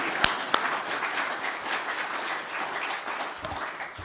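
A church congregation applauding, a steady wash of clapping from many hands with a couple of sharp nearby claps at the start, holding for several seconds.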